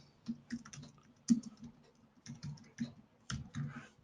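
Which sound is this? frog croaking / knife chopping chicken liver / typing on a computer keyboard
typing on a computer keyboard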